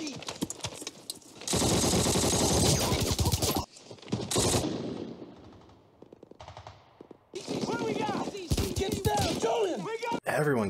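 Gunfire from a Band of Brothers war episode set at Bastogne, with long bursts of loud machine-gun fire and rattling volleys. It stops and starts between quieter stretches, and voices speak over parts of it.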